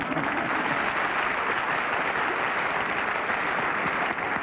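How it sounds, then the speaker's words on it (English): Steady, dense applause from a television game-show studio audience, continuous and even throughout with no breaks. "Boy, they really deserve your applause, believe me."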